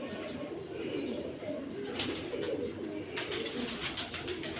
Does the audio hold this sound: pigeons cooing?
yes